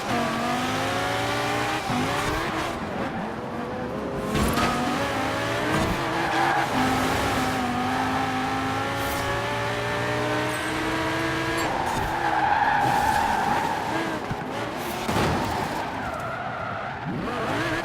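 Race cars in a racing video game roar continuously with engine pitch rising and falling through gear changes, layered with skidding tire squeals, loud and steady throughout with no talking.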